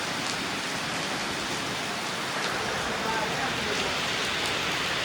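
Heavy rain falling in a hard, steady downpour, a loud, continuous hiss with no breaks.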